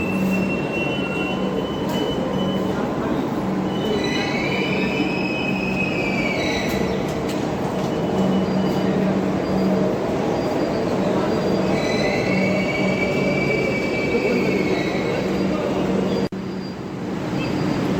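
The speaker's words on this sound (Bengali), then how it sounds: "দেখুন ট্রেন এসে গেছে অলরেডি।" A Kolkata Metro Blue Line train pulls into the station with a loud, steady rumble, and its wheels give high squeals in two long bursts. The noise is close and continuous, with no talking over it.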